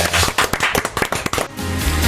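A round of applause sounds on a BBC Six Music radio show: a quick burst of sharp, crisp claps for about a second and a half, then giving way to a steady tonal bed of music.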